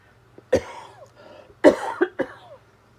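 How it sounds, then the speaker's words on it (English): Several close, harsh coughs in short bursts, one early, then a cluster of three near the end, with quiet breathing between. "Isn't that a much better cough than I've been having?"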